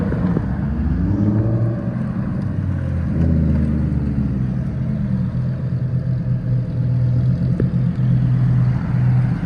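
Two Lamborghini Huracans, a Tecnica and an STO, pull away. Their engines give a steady, throaty drone that rises and swells before settling into a sustained rumble, loud and nearby, with no voices.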